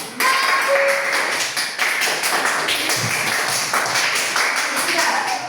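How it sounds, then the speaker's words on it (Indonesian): A class of fifth-grade primary school children claps hands together, a dense, continuous burst of close, loud clapping lasting several seconds with no voices over it. "tepuk tangan untuk kita semua"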